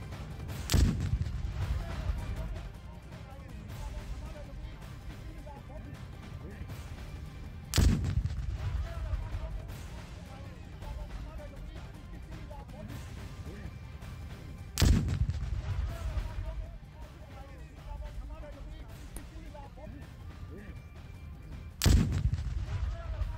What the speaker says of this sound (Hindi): तो ये धमाके की आवाज आप सुन पा रहे हैं